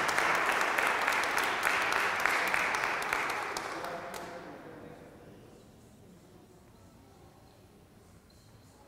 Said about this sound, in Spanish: Vamos a darle un fuerte aplauso a Adamaris.